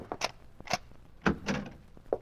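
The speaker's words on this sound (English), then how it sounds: "Open the other door, Joe." A door opening in an old-time suspense radio drama, heard as a few short knocks and a creaking scrape with a final thump, close and moderately loud.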